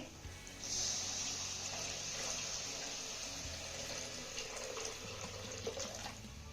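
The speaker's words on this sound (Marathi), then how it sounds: "यामध्ये मी दोन ग्लास पाणी घालतीये" Hot water pours from a glass into a pan of brinjal coconut curry, a steady splashing stream that runs for several seconds at moderate, close range.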